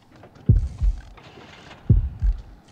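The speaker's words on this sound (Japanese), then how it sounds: "開幕から比較的大きめな心音が鳴ってますね。" Loud heartbeat in the horror game Horrorfield, two heavy lub-dub double thumps about 1.4 seconds apart over a low background hum.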